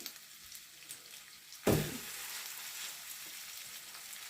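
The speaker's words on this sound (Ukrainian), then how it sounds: "Ось таким чином, швиденько, на розогріту вже сковородку, ми їх перевертаємо." Vegetable and sausage sandwiches are laid into a hot pan and flipped. A sudden loud sizzle bursts up, then settles into a steady, quieter frying hiss that continues to the end, with no voices.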